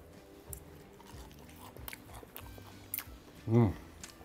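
A bite into crispy air-fried honey lemon chicken: a single loud crunch close to the mic near the end, after a few seconds of quieter, faint movement.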